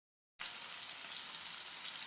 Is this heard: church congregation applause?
no